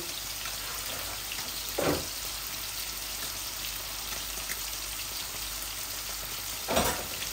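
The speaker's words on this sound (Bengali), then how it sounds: "আমার মাছটা ভাজা হয়ে গেছে" Koi fish frying in hot oil on a gas stove, a steady close sizzle throughout with two short louder bursts of spatter or stirring.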